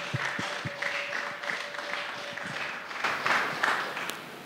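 A church congregation applauding to acclaim the Lord as a speaker comes forward, dense steady clapping from a crowd filling the room, with a faint voice beneath it.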